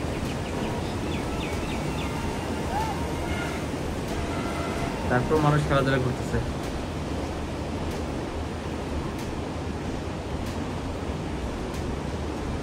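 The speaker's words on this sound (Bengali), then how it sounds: "সমুদ্রের গর্জন" Sea waves at Cox's Bazar beach keep up a steady, distant roar, heard from a hotel balcony. A voice speaks briefly partway through, and faint birdsong sounds over the wash.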